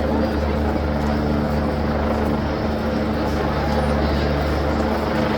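A helicopter flies low overhead above a London street, its steady rotor drone filling the air with a loud, continuous rumble that stays constant throughout, with faint voices underneath.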